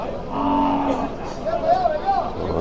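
Native cattle moo loudly and close by at a livestock market in Vaniyambadi, Tirupattur district, with drawn-out tonal calls over crowd murmur and someone talking.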